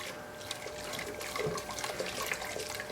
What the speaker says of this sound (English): what we're going to do now is just strain the wort